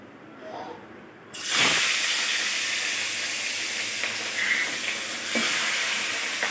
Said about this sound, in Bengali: এই যে তেলটা গরম হয়ে উঠছে, এবার মাছটা আমি ছাড়বো।